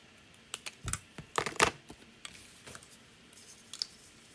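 A Lovely Labels Banners Pick Punch cuts through paper in a few sharp crunching clicks, with a cluster of louder snips in the middle and quieter handling noises around them, close and alone.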